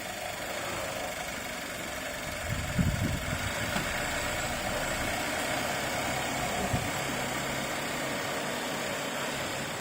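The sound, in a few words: Audi car engine idling while reversing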